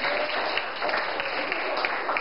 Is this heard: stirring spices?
no